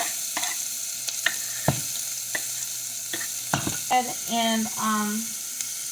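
Chopped onions and garlic go into hot olive oil in a pan, stirred with a few scraping clacks, then a growing sizzle and frying crackle, close and moderately loud, with a brief spoken word.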